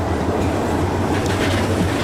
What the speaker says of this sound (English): Nice monorail view. Sharpbait Reef train coming past.